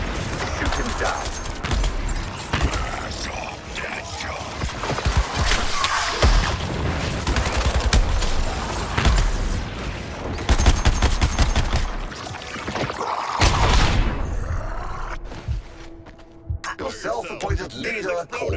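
Dense, continuous gunfire and booming blasts from a Suicide Squad: Kill the Justice League combat scene, loud and near throughout, with game voices talking over the shooting.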